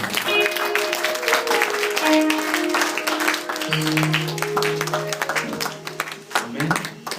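A church congregation applauds loudly, a dense sustained clapping from a large crowd, with a steady tone running underneath.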